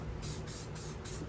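Aerosol lubricant spray hisses in three short, quiet bursts at a steady rhythm onto coilover suspension top hats of a 2008 Infiniti G37 coupe, close by with no talking.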